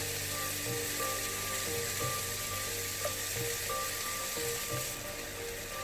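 A steady hiss and crackle of ackee and fish frying in a pan runs throughout, with a few faint clinks of stirring over it.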